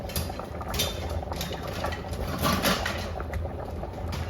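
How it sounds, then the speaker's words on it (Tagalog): Water coming to a boil in a pan for champorado, a steady bubbling, crackling hiss with small spattering pops, close and continuous throughout. "Oh, ayan, nag-boil na."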